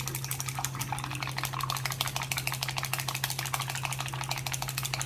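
Salted egg white is whisked steadily in a bowl for an egg garnish, a fast continuous ticking and scraping rhythm over a constant low hum, close and even throughout.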